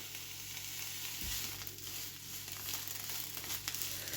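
Bell peppers in three colours frying in a pan greased without added oil, a faint, steady sizzle with a light crackle and a low hum running underneath.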